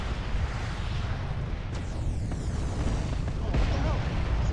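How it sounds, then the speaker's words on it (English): Explosions rumble and boom in the mech combat game Mechwarrior Living Legends, with heavy low-end blasts rolling continuously under battle noise and a sharper burst near the end. "His explosion killed me."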